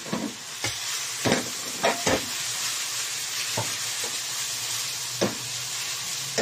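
Ampalaya (bitter gourd) sautéing with onion in a pan, a steady hissing sizzle broken by several sharp scraping knocks as the pieces are flipped, close and loud.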